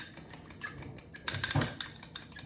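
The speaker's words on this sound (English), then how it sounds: "We gotta whisk it up." Dijon mustard, lemon juice, salt and pepper whisked together for a salad dressing, a quick clinking scrape of metal against a bowl that rises into a busier burst of rapid strokes midway, close and fairly quiet.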